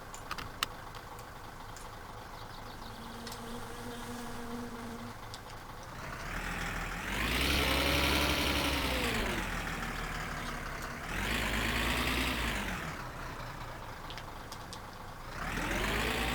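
A vehicle engine from the game My Summer Car idles low and then revs in three rising surges with a sustained drone between them, close and alone.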